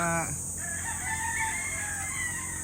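A young gamecock crows once, loud and close, cutting off abruptly, followed by a steady hum and distant bird calls.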